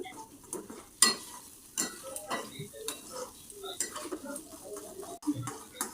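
Spice paste of cashew, poppy seed, green chilli and turmeric frying in oil, stirred with repeated scraping and tapping of a spoon against the pan, soft sizzle underneath and irregular clinks throughout.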